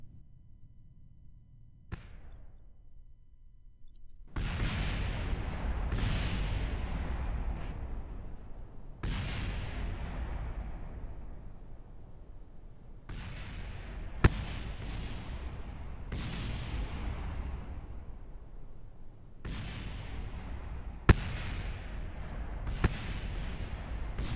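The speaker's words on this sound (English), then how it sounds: "Fireworks. And now we get to watch it go back down." Fourth of July fireworks burst in a series of loud, booming explosions, around eight large blasts, each with a long crackling, rumbling decay, spaced a couple of seconds apart with a few sharp pops between.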